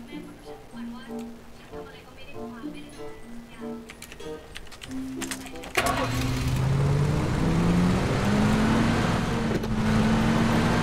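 Vehicle in the PUBG battle game starts up about halfway through and drives on with a steady, loud engine drone that rises in pitch, after a stretch of tonal game music and ticking.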